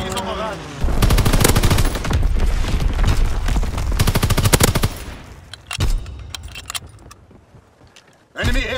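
Rapid machine-gun strafing fire from an enemy aircraft in a first-person shooter match at the USS Texas sweeps in as a dense, loud burst of rattling shots lasting several seconds, then trails off into scattered bangs, with a shouted game announcer voice over it.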